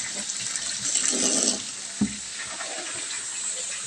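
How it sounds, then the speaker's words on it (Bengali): Running water rinses cut drumstick (sajna) vegetable pieces in a home kitchen, a steady splashing hiss with a brief clunk partway through, close and alone without talk. "এবার কেটে রাখা সজনা ডাঁটাগুলো একটু জল দিয়ে ধুয়ে তারপর আমি দিয়ে দেবো এর মধ্যে"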